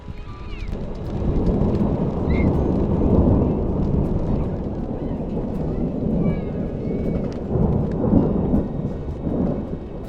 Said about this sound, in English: a storm started rolling in over the mountains